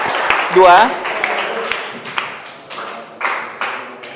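A classroom group claps for group 2 after its presentation in a religious-history lesson, with short scattered hand claps under a teacher's talking.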